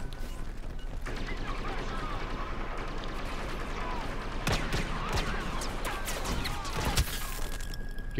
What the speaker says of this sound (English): Let me toss a grenade